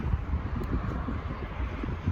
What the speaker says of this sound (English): Windy, wind's well blowing at the moment